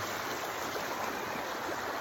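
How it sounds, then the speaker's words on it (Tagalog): River water flowing at a favourite swimming spot, swollen after overnight rain, a steady, faint broadband rush with no talking. "andito na tayo sa paborito nating spot na ilog"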